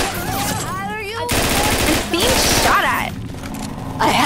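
Loud bursts of rapid gunfire from the video game Scarface: The World Is Yours, heavy automatic volleys with thuds, broken by short gaps and shouted voices over the fighting.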